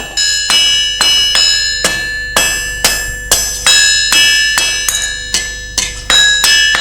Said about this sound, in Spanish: A partir de un trozo de pletina, el herrero va a forjar una bisagra.